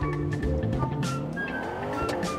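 A V8 engine in a BMW-like coupe racing in BeamNG.drive revs and accelerates loudly and steadily, with rising and falling engine tones and some tire squeal throughout.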